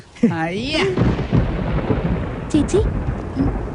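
Deep rolling thunder rumbles steadily beneath the scene, with a soft wash like rain and a few voices speaking over it.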